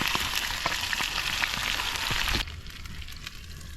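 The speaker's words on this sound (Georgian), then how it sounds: "დავდებთ ქათამს დაბალ ცეცხლზე შესაწვავად ტაფაზე." Chicken frying on low heat in a pan for chkmeruli gives a steady, close sizzle that drops abruptly to a quieter, softer crackle partway through.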